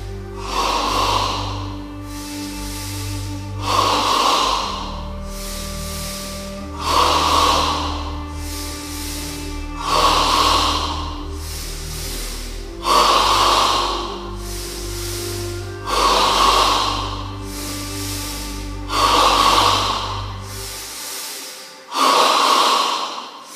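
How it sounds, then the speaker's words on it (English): Yoga double breathing into the chest: about ten strong, rhythmic nasal inhales and exhales, close and loud, repeating every two seconds or so over a low background hum that drops out near the end. "In stage 3 of double breathing, we breathe entirely in the chest,"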